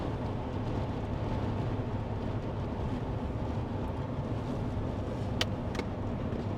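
A car cruises along a motorway on an overland trip from Luxembourg, a steady, broad rumble of engine, tyres and road noise heard from inside the cabin, constant and unbroken, with no talking.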